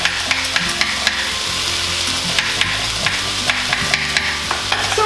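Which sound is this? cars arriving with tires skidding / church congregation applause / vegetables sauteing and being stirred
vegetables sauteing and being stirred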